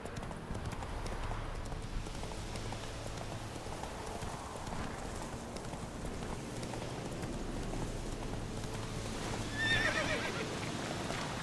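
A horse gallops in The Witcher 3: Wild Hunt with steady, rhythmic hoofbeats, fairly faint and continuous, and a short neigh rises near the end.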